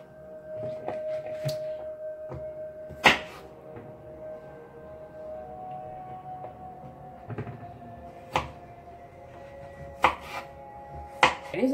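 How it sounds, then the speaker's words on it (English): Knife on a cutting board roughly chopping vegetables for a turmeric sauce: irregular sharp thunks, some louder blows, close and clear, with no talking. "I'm just gonna give them a rough chop on everything"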